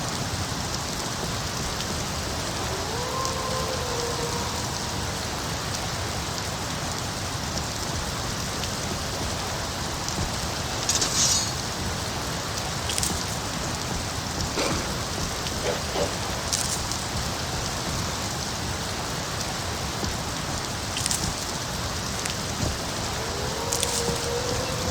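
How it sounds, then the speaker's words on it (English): Steady rain falling in a Skyrim forest on the road to Riften, a dense even patter on surfaces with a few brief louder drips and distant rumbles, no voices. "But this rain was getting his fur all wet."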